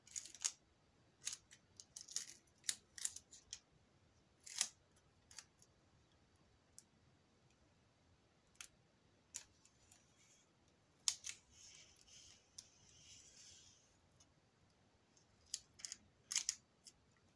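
Sharp, crisp snips of scissors cutting tape in quick bursts, some single and some in rapid clusters, close by against a quiet background.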